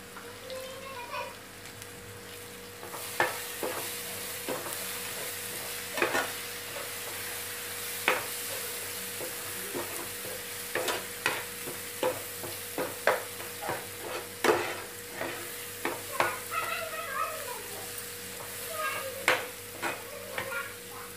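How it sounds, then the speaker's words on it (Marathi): Spinach paneer gravy with chilli powder, turmeric and coriander powder sizzles softly in a pan, with a spoon stirring and scraping in frequent light clicks over a low, steady fry. "आपण ह्याला 2-3 मिनिट परतून घेऊ।"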